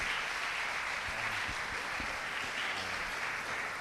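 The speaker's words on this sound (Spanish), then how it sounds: "con un fuerte aplauso, vamos a darles la bienvenida" A church congregation applauds in welcome, a steady dense wash of clapping that fills the whole stretch at an even level, with faint low voices underneath.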